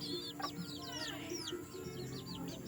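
Purebred jungle fowl chickens call in a pen, with a steady stream of high, quick descending chirps and peeps over a low background hum, fairly faint and continuous.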